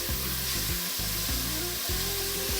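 Onion and garlic sizzling in a pot for a collard green, white bean and ham hock soup, a steady loud frying hiss with a low hum and stirring underneath, no talk.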